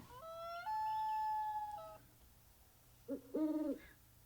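Two synthetic owl hoots play as a custom ringtone on a Samsung Galaxy S20, a long steady tone followed after a pause by a shorter wavering call, clear against a quiet background.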